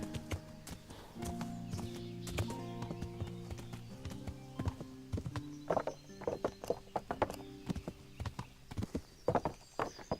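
Horse hooves clip-clop in the video game Kingdom Come: Deliverance, a steady walking gait of hollow knocks, close and clear, with a sparse, irregular run of hoof strikes near the end.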